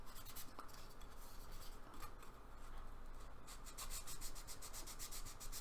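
Sanding sponges rub over a Jaguar E-Type body panel in quick, close strokes, a faint papery scratching that turns into a rapid rhythmic series of passes near the end.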